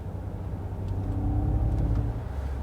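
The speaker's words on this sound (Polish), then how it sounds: "To naprawdę fajnie imituje ten dźwięk V8." Mercedes G 580 EQ electric SUV playing a simulated V8 engine sound while driving, a low, steady, rumbling engine drone heard from inside the cabin, with no talk.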